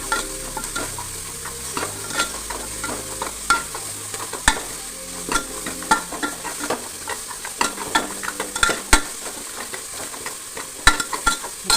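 Drumstick curry sautés with salt in a pan, a soft continuous sizzle under repeated close clinks and scrapes of a spoon stirring at an uneven rhythm.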